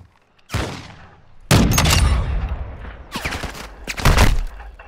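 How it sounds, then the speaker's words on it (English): Gunfire in the shooter game Call of Duty: Modern Warfare II, with several loud bursts of shots and booming reports in quick succession, close and heavy, separated by short gaps. "Taking effective fire!"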